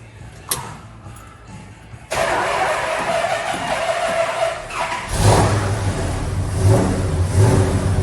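A 1972 Dodge Charger under restoration cranks and fires up, its engine catching abruptly and settling into a loud, rough run, then climbing into a heavier rev near the end.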